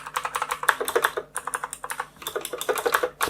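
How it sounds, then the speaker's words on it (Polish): Fast typing on a Krux Atax Pro RGB mechanical keyboard with Outemu blue switches, crisp clicky keystrokes in quick irregular bursts, close and loud with no talking. "posłuchajcie sobie, jak działają same klawisze"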